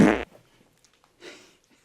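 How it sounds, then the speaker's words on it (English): A loud, fast fart bursts at the start, then a fainter, softer rasp follows about a second later. "if you're passing that gas super fast, it's more likely to be loud"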